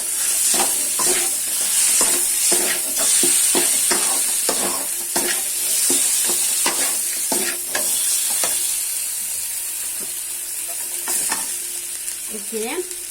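A spiced potato mixture for Odia aloo chop gets stirred in a hot pan, with repeated scraping strokes over a constant sizzle and occasional crackles, no talk.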